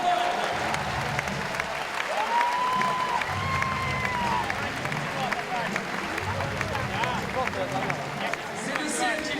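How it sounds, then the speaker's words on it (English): Spectators at a world championship lead climbing final in Paris applaud and cheer for a finalist, a broad sustained crowd wash with a few whistles rising above it, while an announcer speaks over the noise. "Applaudissements pour la jeune Autrichienne"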